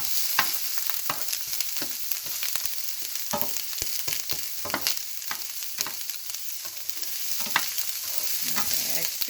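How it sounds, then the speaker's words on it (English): Garlic frying in a pan for chicken afritada, a steady hiss of sizzling oil broken by frequent scraping clicks of a spoon stirring against the pan, close and continuous with no talking. "let's keep on until the garlic is a little bit cooked"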